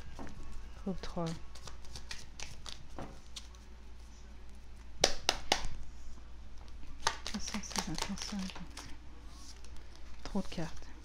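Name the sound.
shuffling a deck of fortune-telling cards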